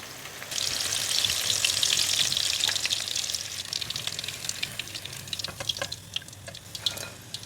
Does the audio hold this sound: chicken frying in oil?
yes